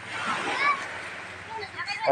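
Children splash while bathing in cool water on a family day outing, with sloshing and splattering mixed under nearby chatter and voices.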